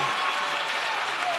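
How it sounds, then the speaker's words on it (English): Brief, even burst of audience applause at a college nursing event, steady and moderately loud throughout with no other sounds standing out. "Give him a round of applause."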